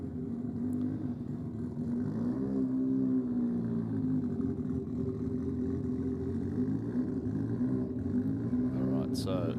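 A VW Golf GTI and a Polo GTI launch side by side off the drag strip start line, engines droning and revving at a distance beneath a commentator's steady talk over the public address.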